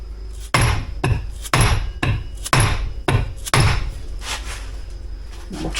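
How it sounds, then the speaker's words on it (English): A hammer pounds the rear side of a shaft on an old, worn brush hog, about six heavy metallic blows in a slow, irregular rhythm, close and loud, with no voices. "I'm going to pound it on the rear side of the shaft"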